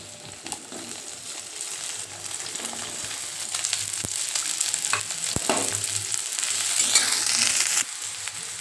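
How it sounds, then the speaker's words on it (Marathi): Chopped onion frying in a spoonful of oil gives a continuous close sizzle that swells slightly over time, with occasional soft knocks and scrapes from stirring. "याच्यात आपण छान असा कांदा फ्राय करून घेऊया"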